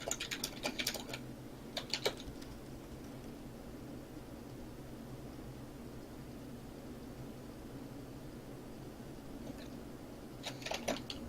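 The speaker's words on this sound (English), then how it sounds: "That was me typing as her." Typing on a computer keyboard, brief bursts of quick key clicks at the start, around two seconds and near the end, separated by a long stretch of steady low background hiss.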